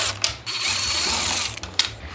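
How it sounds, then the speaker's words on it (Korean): A screw being unscrewed from the detergent drawer on the left side of an LG drum washing machine, with a steady whirring drive and a low rhythmic pulsing for about two seconds, close and fairly loud. "여기 나사를 분해하겠습니다."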